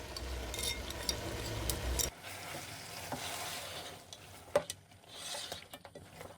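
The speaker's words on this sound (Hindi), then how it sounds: "अब हम इसमें 1 कप के करीब दही ऐड करेंगे" Whisked yogurt goes into frying chicken bhuna, a loud sizzle that drops sharply, followed by repeated spoon stirring and scraping against the pan over a softer ongoing fry.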